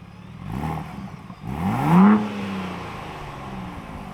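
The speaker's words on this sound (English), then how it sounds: "This is what quiet sounds like." Ford Bronco Raptor with its active exhaust set to quiet mode gives two short throttle blips, a soft rev followed by a stronger rising vroom that falls away into a muted idle, restrained and fairly close.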